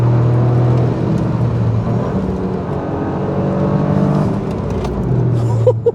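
The 1.6-litre three-cylinder engine of a Toyota GR Yaris pulls hard uphill, a loud droning whir that shifts pitch through the gears, heard from inside the car.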